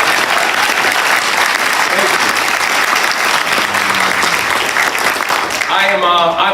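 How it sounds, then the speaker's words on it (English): A large crowd applauds at a Maryland get-out-the-vote rally, dense sustained clapping filling the room, with a voice briefly heard near the end. "can we please give a round of applause to all the leadership that you all continue to show?"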